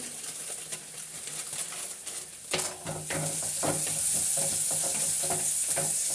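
Onions sizzling and frying in a pan on a medium flame while noodles are being prepared, a steady crackling hiss that grows louder and fuller partway through, with occasional stirring scrapes.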